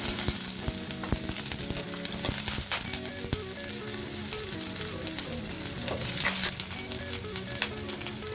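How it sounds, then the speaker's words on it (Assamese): Onion, ginger and garlic fry in hot oil in a wok, giving a steady, dense sizzle with crackling pops throughout, close and fairly loud, with no voices over it. "জাষ্ট অকণমান তেল দিম যাতে মই যিখিনি পিঁয়াজ লৈছোঁ আৰু আদা নহৰু লৈছোঁ সেইখিনি অলপ ভাজি ল'ব পাৰোঁ"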